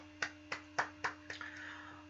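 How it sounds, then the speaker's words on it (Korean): A handful of evenly spaced claps, about five in a steady rhythm, fairly faint in a quiet room with a low electrical hum, offered for the risen Jesus during a children's Easter Sunday worship service. "부활하신 예수님께 우리 다시 한번 박수했으면 좋겠습니다"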